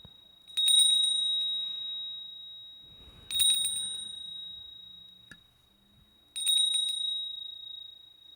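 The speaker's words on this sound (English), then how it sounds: "Can I ring the bell of abundance first?" A small bell of abundance rings three separate times, each bright, sustained ding decaying slowly before the next, with quiet pauses between strikes.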